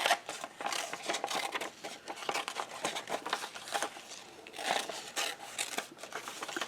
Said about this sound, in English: I'm going to quickly cut this out